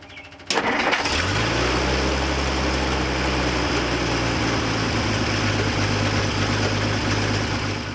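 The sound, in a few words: old car engine running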